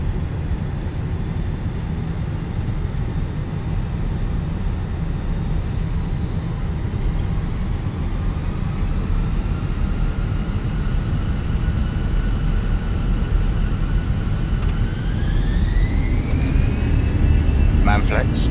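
Airliner engines in Microsoft Flight Simulator 2020 hold a steady, loud turbine drone with whining tones that climb sharply near the end as thrust builds for takeoff. Cockpit voices speak over the engines.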